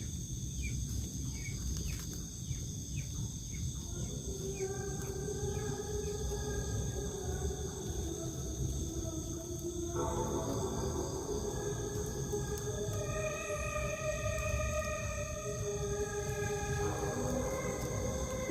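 Night ambience in a teak forest with faint, repeated high chick-like peeping over a constant insect drone and steady low rumble, distant and without talking.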